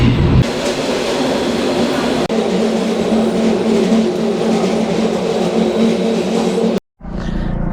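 Swiss train running out of Lauterbrunnen heard from inside the carriage, a loud steady rumble and rattle of wheels on rails that drops out briefly near the end.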